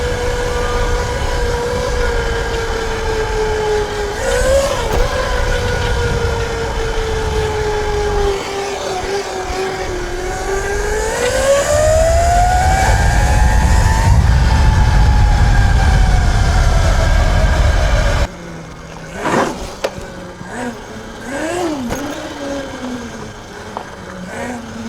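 A pit bike on upgraded wheels and tyres revs with a whining engine note that rises and falls through gear changes, a grinding rumble midway as the rear brake skids, then a sudden drop to quieter idling.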